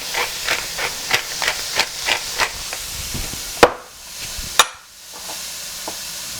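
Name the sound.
mushrooms cooking in oil, sizzling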